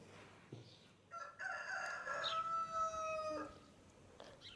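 A single rooster crows once at a moderate distance, a drawn-out call over faint outdoor ambience.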